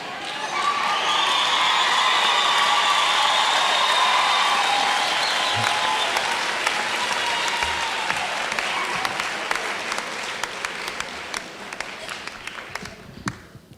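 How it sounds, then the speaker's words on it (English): A university audience applauds at a chancellor's inauguration ceremony, a dense sustained wash of clapping and some cheering that holds steady and then thins into scattered claps toward the end. "Let's repeat again a round of applause"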